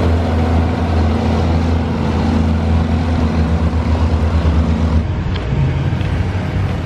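A small tractor circles a dirt race track packing down the surface, a loud steady engine drone that drops off sharply after about five seconds, with no talking.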